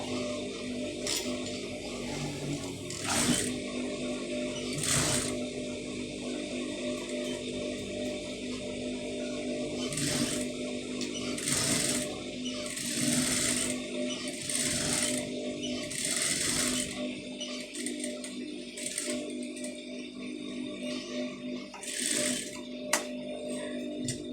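A sewing machine stitches a lace neck design onto fabric, running in a steady mechanical whir with short bursts and pauses between runs, close up and with no talking.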